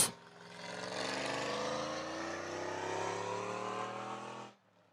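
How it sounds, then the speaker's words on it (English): Race vehicles, including a truck, launch at Hythe Motor Speedway with a sustained engine roar that rises steadily in pitch as they accelerate, loud and steady, then cuts off abruptly. "I heard the truck."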